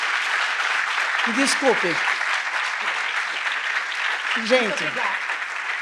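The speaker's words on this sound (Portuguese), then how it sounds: "E eu quero, assim, uma salva de palmas." Audience applause at a customer-centricity talk, a steady crowd clapping throughout at moderate level while someone speaks over it.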